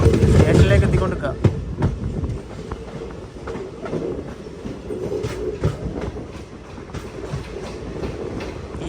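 The Kisan Express rolls into Sataroad station, its wheels clacking rhythmically over rail joints under a rumbling, rattling carriage, with someone talking over the ride and the noise growing busier as the train slows.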